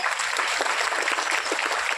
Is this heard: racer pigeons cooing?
no